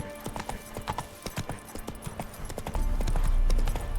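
Roach, the horse in The Witcher 3, gallops in quick, rhythmic hoofbeats close up, and a louder low rumble rises partway through.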